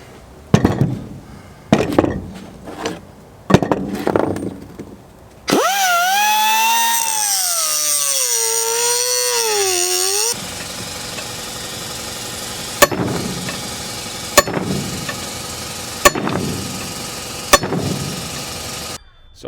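Rear wheel bearing race being cut with an X, a steady high-pitched grinding whine lasting about five seconds with wavering pitch, bracketed by sharp knocks and clatter from the work before and after.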